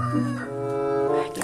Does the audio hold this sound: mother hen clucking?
yes